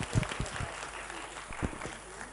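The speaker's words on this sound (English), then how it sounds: "please join me in giving a round of applause to the audience as well as to my team as well" Audience applause at the launch of an economic integration report, a brief, moderately quiet patter of clapping with a few stronger claps near the start and again later.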